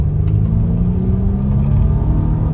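A 2022 Volvo XC90 accelerates at about one-third throttle, its engine giving a loud, steady, low rumble throughout from inside the cabin, with no talking.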